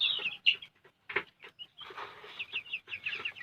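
Chickens clucking and squawking close by while being fed, a busy run of short calls over a few seconds, no speech.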